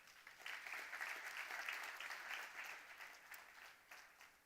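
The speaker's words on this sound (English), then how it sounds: "A big round of applause for Shen-Or Lab over here." Audience clapping at an XPRIZE Healthspan finalist announcement, a fairly quiet, steady round of applause from a crowd lasting a few seconds and tapering slightly at the end.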